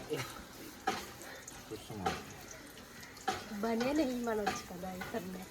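Onions fry in hot oil in a pot over a wood-fired stove, a quiet crackling sizzle with a few stirring clatters, partly under people talking nearby.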